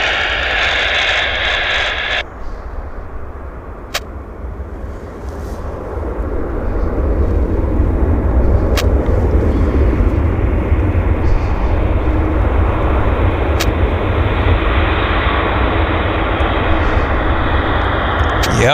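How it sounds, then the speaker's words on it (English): A WestJet airliner rolls out on the runway at Vancouver airport, its loud broadband engine roar building and holding steady after a fainter opening, with a radio transmission briefly heard near the start. "Beautiful rollout on the WestJet."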